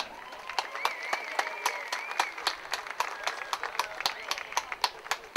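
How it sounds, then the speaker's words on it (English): Crowd applause and clapping for a sprinter being introduced at the Stonnington Women's Gift 100m final, steady and moderately distant, with an announcer talking over it. "Put your hands together for Keely Henderson."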